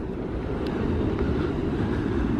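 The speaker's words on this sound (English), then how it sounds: "Oh, there's the old tram." An old Blackpool tram passes at night during the Illuminations, giving a steady low rumble and rolling drone that holds at an even level throughout, with no voices over it.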